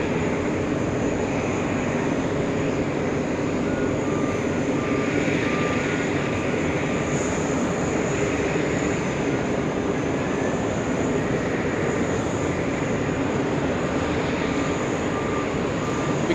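An Airbus A380 airliner rolling out after touchdown at JFK, a loud, continuous broadband engine roar that holds steady throughout without pauses or voices.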